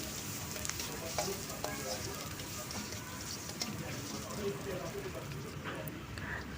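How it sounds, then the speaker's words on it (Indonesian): Onion and garlic stir-fry in oil in a pan with a steady, soft crackling sizzle that runs throughout at low volume, with a voice talking over it. "Ini bawang bombay masuk, gongso sampai wangi"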